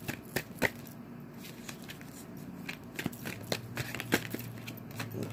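Tarot cards shuffled by hand, a close run of crisp riffles and snapping slaps with irregular bursts and brief pauses, no speech.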